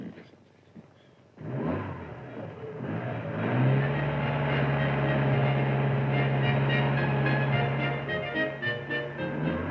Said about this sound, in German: ich habe das Gefühl, mit dem Motor stimmt irgendetwas nicht.